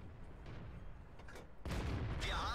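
A tank gun firing in World of Tanks, the 59-Patton: a sudden loud blast lands mid-clip over a rumbling game soundscape, followed by a sustained burst of noise and a whistling tail.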